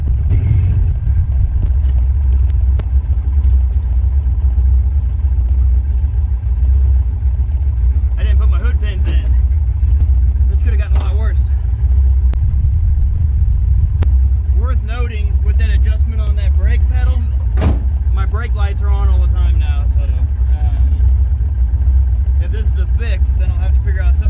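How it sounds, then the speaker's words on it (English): A car with a freshly fixed hydroboost brake system drives along a road, its low, steady engine and road rumble running loud throughout while someone talks over it at intervals. "I'm gonna get back on the road and drive it to there"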